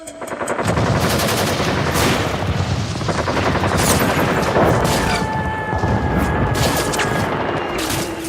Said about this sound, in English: They drop napalm and strafe its decks with rockets, cannon fire, and armor-piercing rounds